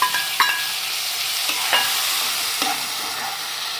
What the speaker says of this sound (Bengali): আমি ওই তেলটাতে পেঁয়াজ আর টমেটোটা দিয়ে দেবো